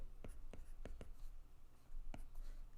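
A pen writes numbers on paper in a few quick, close taps and short strokes, soft and separated by brief pauses, with a quiet room hum behind it.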